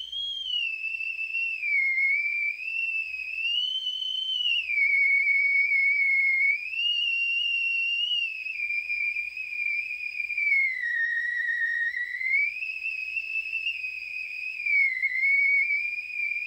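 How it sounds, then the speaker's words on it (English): A homemade theremin built from three radios plays a wavering, whistle-like melody, one pure sliding tone with a faint overtone gliding up and down between held notes, steady and close with no talking. "Who wants to hear what my new theremin sounds like?"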